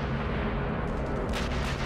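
Gunfire in the video game Sniper Elite V2 rumbles heavily and continuously from a rooftop battle. The deep, loud blasts blend into a dense roar, with a few sharper cracks toward the end.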